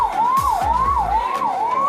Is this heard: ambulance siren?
yes